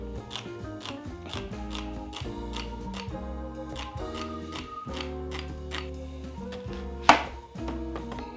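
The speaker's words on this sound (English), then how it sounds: "Next, our carrots. You can cut these as thin or thick as you like." A knife chops carrots on a cutting board in a steady rhythm of crisp taps, one sharp louder knock near the end, heard against a soft background with no talking.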